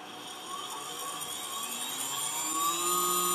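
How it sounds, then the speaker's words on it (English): A CNC router spindle spins up, a smooth whir whose rising whine climbs steadily in pitch and grows slightly louder over a few seconds. "And my spindle came on."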